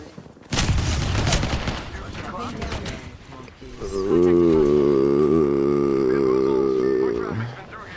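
Rapid bursts of video game gunfire rattle loudly, followed by a sustained droning in-game tone that fades out near the end.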